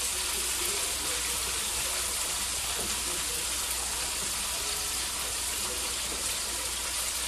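Water pours into a pot of rice and gets stirred, a steady broadband rush that stays even and fairly loud throughout, with no voices over it.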